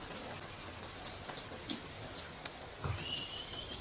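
Steady rain falling and drumming on surfaces, a dense continuous hiss with scattered sharper drop ticks, building slightly heavier toward the end; no voices.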